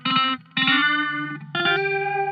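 A music sample runs through a wide chorus guitar pedal set to poly mode, giving thick, doubled, shimmering chord stabs with distortion-like grit and a sustained tone carrying between hits.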